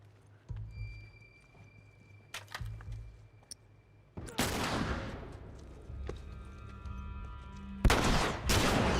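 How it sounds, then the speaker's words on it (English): Gunfire from a sniper rifle in The Last of Us, a few sharp shots ringing out with echoing tails, one heavier blast near the middle and another near the end, between quieter game ambience. "I sniped that guy with this gun."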